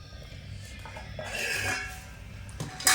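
Metal pot and lid clinks with kitchen clatter as a pot of catfish curry is covered and set on the stove, a sharper clank near the end, fairly close and moderately loud.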